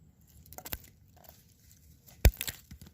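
Pruning shears snipping a coral berry shrub branch during a hard prune, two sharp close clicks about a second and a half apart, with faint rustling of twigs between them.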